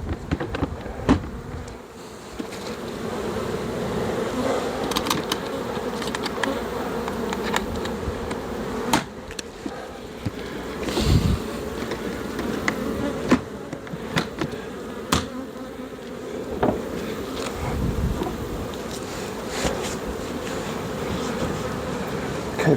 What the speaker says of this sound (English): Okay, we've got some more bees here.